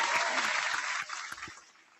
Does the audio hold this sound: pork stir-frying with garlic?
no